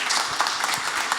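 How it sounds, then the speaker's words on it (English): Audience applause for a panel discussion at a watch fair in New York, a short burst of many hands clapping together, fairly loud and dense. "round of applause for our panelists"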